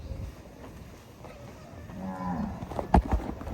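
Cattle, bulls and cows kept at a temple grounds, with a clear loud moo rising late in the clip after a stretch of quieter low rumbling and ambient noise.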